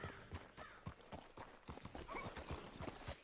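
Horse hooves clip-clopping in the video game Red Dead Redemption 2, a steady run of close, crisp hoof strikes in a regular walking rhythm with faint background ambience.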